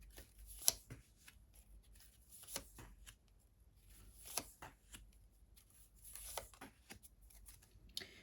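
Tarot cards are shuffled in several quick riffles and soft slaps, with short pauses between bursts, close and fairly quiet.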